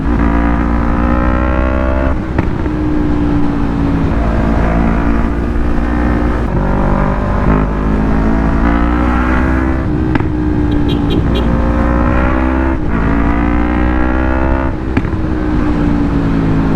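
A Yamaha MT-03 motorcycle engine revs steadily and loudly close by, its harmonic drone rising and falling through repeated throttle blips with brief dips between, alone with no talk.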